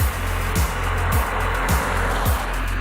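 A Lada Niva cruising on a road at highway speed, with a steady low engine drone and tire rumble close up, broken by a few periodic thumps and gear-like pitch drops; no one talks.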